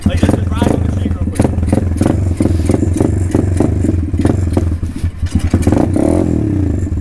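A pit bike motorcycle engine running loud and close with an uneven, struggling idle and short revs, clattering mechanical noise throughout, while people talk over it.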